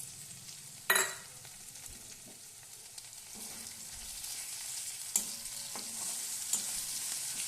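Garlic, ginger and green chili paste fries in hot oil in a pan for a chicken dish, a soft continuous sizzle with a sharp spoon clank at the start and a few quieter scrapes as it is stirred.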